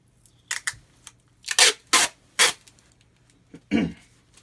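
Tape is torn and pressed onto the tip of a foam Amtgard short sword at a workbench: a series of short, sharp ripping bursts of varying length, close and fairly loud, with quiet gaps between them.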